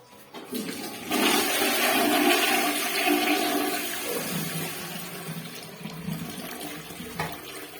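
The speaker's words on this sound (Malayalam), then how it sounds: "ക്ലോസറ്റ് നമുക്ക് ഒന്ന് ഫ്ലഷ് ചെയ്ത് നോക്കാം." A Johnson wall-hung WC with a concealed tank flushes close by: a sudden loud rush of water that holds strong for several seconds, then eases into a softer trickle and refill.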